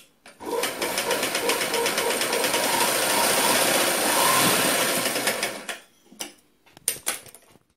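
An electric sewing machine runs steadily for about five seconds while stitching a fall onto a saree, its rapid needle clatter close and even, then stops, leaving a few short clicks and handling noises.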